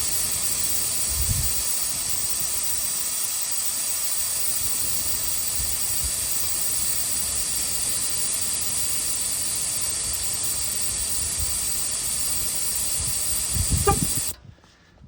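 Air hisses steadily and close from the front tire valve of a Chevy Silverado, held open with a key, a continuous broadband rush lasting about fourteen seconds before cutting off abruptly.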